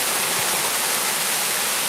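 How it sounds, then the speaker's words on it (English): Creek water pours steadily out where the stream emerges beneath a town, a dense, continuous broadband rush close by with no pauses and no talk. "that's where the creek comes out."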